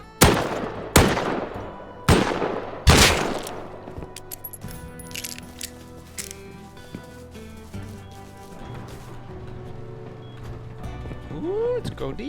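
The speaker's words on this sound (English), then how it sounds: "I had heard some gunshots nearby and decided to investigate" Four heavy gunshots crack close by in a survival video game, evenly spaced about a second apart, followed by echoing tails, rustling movement and game sounds.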